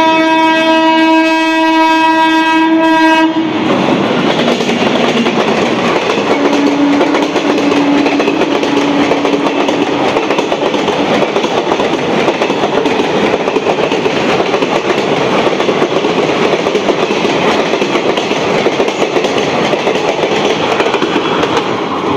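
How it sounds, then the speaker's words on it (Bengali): Tebhaga Express, a Balurghat–Kolkata passenger train, sounds a loud sustained horn near Baranagar station, then thunders past close by with continuous heavy rumbling and rhythmic clattering of wagons over the rails for the rest of the clip. "এই চলে গেল তেভাগা এক্সপ্রেস"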